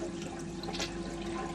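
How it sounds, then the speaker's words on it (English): Toilet flushing, a steady swirl and rush of water running nearby through the whole brief moment, with no talk over it. "The toilet spins the opposite direction."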